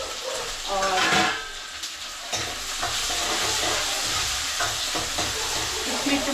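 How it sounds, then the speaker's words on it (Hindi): Cumin seeds crackle and sizzle in hot oil for a pickle tempering, a bright hissing spatter with occasional stirring clinks and a brief louder burst early on. "अभी हम लगा रहे हैं तड़का अपनी घंटियाली, चाय जीरे डाल दिए"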